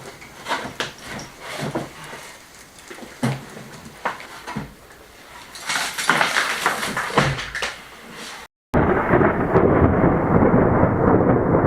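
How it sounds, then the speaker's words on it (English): Thunder rumbles and cracks in several loud bursts, building to a heavy, sustained roar after a brief cut near the end. "Huge clap of thunder."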